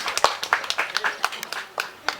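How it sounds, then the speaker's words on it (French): Scattered clapping at a memorial tribute gathering, a handful of separate hand claps in an uneven rhythm, fairly close but quiet, with some faint voices underneath. "sous vos applaudissements"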